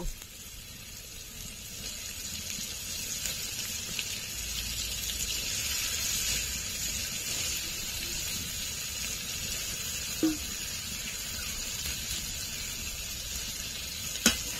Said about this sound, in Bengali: বন্ধুরা, মশলা থেকে তেল ছেড়ে দিয়েছে। এবার কুচি করা মাংসগুলো দিয়ে দেব।